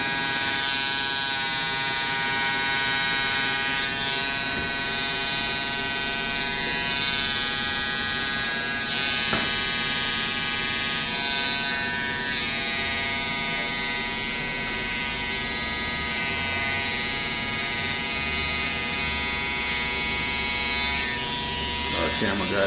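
A barber's hair trimmer buzzes continuously while cutting hair, a close, steady electric whine with a few brief shifts in pitch, running under a speaking voice.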